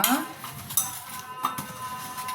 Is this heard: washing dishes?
yes